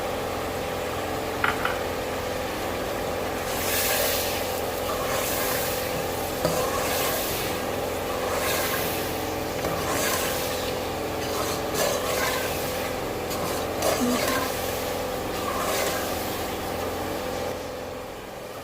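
Small boiled white chickpeas go into a pot of Lahori murgh cholay and get stirred, a steady close scraping and rubbing of a spoon against the pot under a faint sizzle, with a few sharp knocks and no talking.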